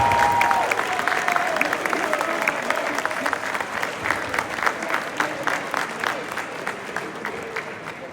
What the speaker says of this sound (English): Make sure you clap for them when I call them because this is a great honor they got.